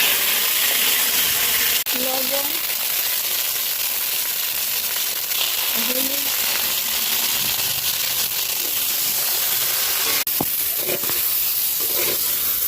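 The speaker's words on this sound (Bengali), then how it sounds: "তেলটা তেলছে বেগুনগুলো দিয়ে দেবো" Eggplant pieces fry in hot oil in a pan, giving a steady broad sizzling hiss throughout with occasional faint clinks and background sounds.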